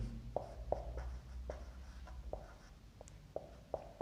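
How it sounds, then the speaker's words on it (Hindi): A voltage formula is written out by hand during a physics lesson, heard as faint, quiet strokes and taps at irregular intervals, with no talking. "तो अब हम इसको लिख लेते हैं वोल्टेज"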